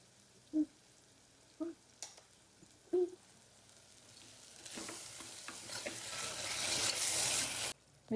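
Masala frying in oil for mutton keema: a few faint scrapes and clicks at first, then a steady broadband sizzle swelling louder and continuous, cutting off abruptly near the end, with no talk.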